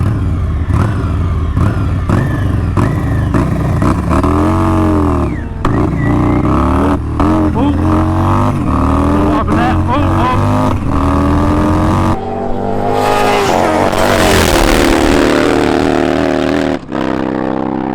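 Harley Davidson drag bike accelerating hard with a misfire, a very loud close engine roar climbing through rising revs with stutters and breaks, then a harsher surge toward the end.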